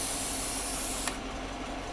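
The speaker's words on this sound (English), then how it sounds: "And when it's back up, you can spray some more" Spray lubricant hisses from an aerosol can onto the glass edge of a car window, a close steady spray lasting about a second before cutting off to quiet background noise.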